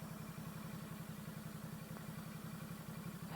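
A motorcycle engine runs at a steady idle on a night ride in Tokyo, a low, even, pulsing thrum that stays constant and nearby with no talking.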